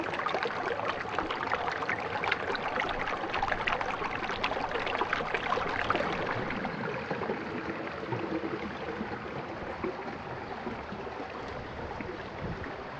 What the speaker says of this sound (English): There's a little creek nearby.